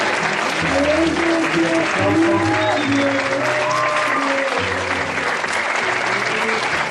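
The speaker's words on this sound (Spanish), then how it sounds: "Vamos a brindar un fuerte aplauso más a Víctor Rogelio y a Jorge Manuel." An audience at a cultural event in Tultepec, Mexico breaks into loud, sustained applause, a thick continuous roar of clapping with crowd voices and a low musical drone underneath throughout.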